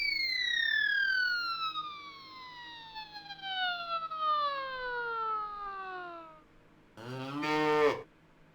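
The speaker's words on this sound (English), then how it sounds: "And he's a cow." A cow in the adventure game Space Quest 6: The Spinal Frontier gives a short, low, throaty moo near the end, after a long descending whistling glide, with no voices over it.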